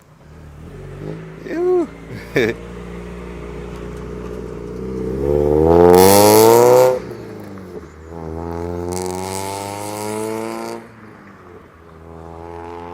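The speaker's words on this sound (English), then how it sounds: "we got our friend the Miata right here" A Mazda Miata drives past near a parked 2024 Subaru WRX, its engine revving loudly with rising pitch before easing into a steady drone and fading; a few short clicks come first and someone speaks briefly.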